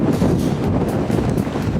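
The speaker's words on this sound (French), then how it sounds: "le vent c'est horrible. Il y a des rafales, mais des rafales" Strong gusty wind buffets the microphone outdoors by the sea, a loud, close, low rumbling roar that surges and eases without pause.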